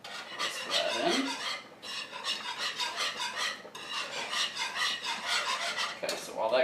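Shredded Parmesan cheese being whisked into a pan of Alfredo sauce, a steady rapid scraping and rasping of the whisk against the pan that runs in bursts with brief pauses, close and fairly loud, with no talking.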